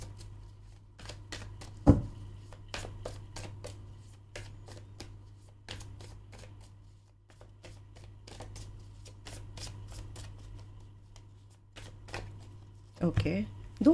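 Tarot cards being shuffled, a long run of quick, crisp riffling snaps and taps close by, with a steady low hum underneath and a couple of louder knocks.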